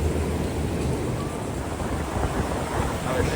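Steady broadband rushing of a stadium waterfall, not in full flow, at Kauffman Stadium, a continuous wash with wind buffeting the microphone, no distinct events, moderately loud throughout.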